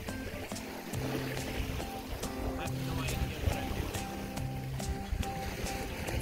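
A small dinghy sails on open water, with sloshing waves, rigging and hull knocks and wind noise throughout. Voices can be heard faintly in the background.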